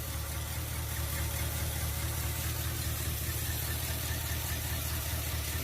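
A 1979 Chevy C20 truck engine that had been parked since 2005, running on a temporary fuel line: a steady low rumbling idle with a faint knocking texture, continuous and moderately quiet throughout.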